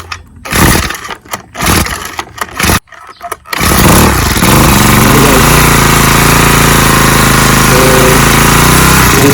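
A Honda GX35 grass cutter engine, fitted with a replacement fuel hose, gives a few loud irregular bursts as it catches, then settles into a steady, loud, close buzzing run that continues to the end.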